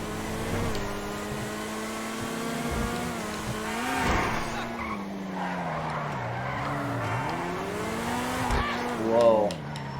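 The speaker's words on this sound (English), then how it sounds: "She really wants to break traction." Tires on a Vysser Neo car in GTA Online squeal and skid as they lose traction under acceleration, a sustained wavering screech over engine drone, with someone talking over it.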